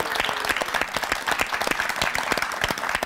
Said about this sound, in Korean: 그럼 우리 그들에게 모두 박수를 쳐서 격려해주고 위로해주자